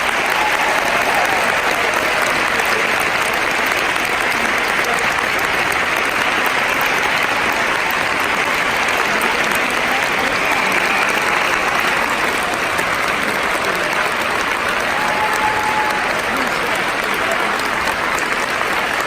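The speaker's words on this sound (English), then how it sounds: "Please give yourself a big round of applause." Sustained, dense applause from a large audience at a show choir nationals awards event, steady and loud throughout without pause.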